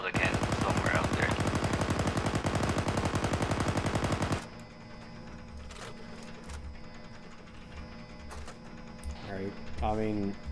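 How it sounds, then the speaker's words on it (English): A video game autocannon fires a rapid, evenly spaced burst for about four seconds, then stops, leaving a quieter background where voices speak. "There's an auto cannon somewhere out there."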